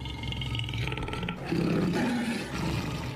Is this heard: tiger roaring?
yes